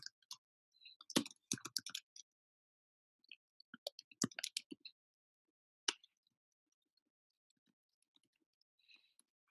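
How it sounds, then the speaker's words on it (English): Computer mouse clicking in quiet bursts of small sharp clicks, a rapid cluster followed by a second group and a few isolated clicks, close and fairly faint against silence. "I'm just going to click one here"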